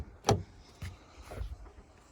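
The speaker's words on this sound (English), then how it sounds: "you will have heard the bonnet itself actually release" A Toyota Corolla bonnet release lever pulled inside the car, a single sharp plastic clunk followed by a fainter thud as the bonnet pops, then quiet cabin ambience.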